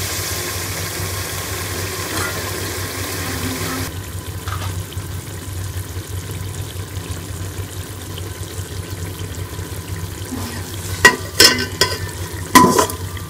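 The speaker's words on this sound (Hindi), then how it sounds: "मसाले को अच्छी तरह से भून लेंगे" Masala spices for beef yakhni pulao fry in a pan with a constant low hiss and bubbling. A few sharp clinks of stirring come close up near the end, with no speech.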